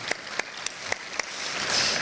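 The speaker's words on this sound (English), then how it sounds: "We'll give her a round of applause" A few sparse, separate claps from an audience at a lecture series and white coat ceremony, five distinct hand claps followed by a soft swell of room noise.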